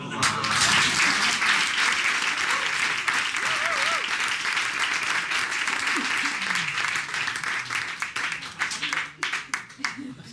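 Applause from diners at a restaurant magic dinner show, a lively burst of clapping that gradually thins into scattered, separate claps, with voices calling out over it.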